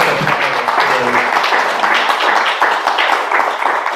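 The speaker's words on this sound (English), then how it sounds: "give a wonderful round of applause for our wonderful panelists" Audience applause for panelists at a seminar, a loud, dense patter of many hands clapping continuously, with a brief low voice murmuring near the start.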